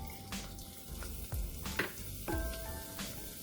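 Pistachios sizzle in hot ghee in a pan for sheer khurma, a steady crackling fry broken by a few sharp clinks and stirring sounds, close and moderately loud.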